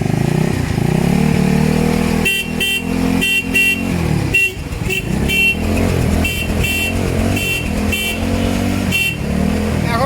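A motorcycle fitted with a new armature idles steadily up close, started with no battery connected, while its horn sounds in a string of short beeps over the running engine.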